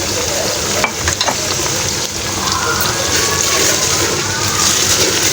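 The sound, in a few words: tomato puree sizzling as it is added to the pan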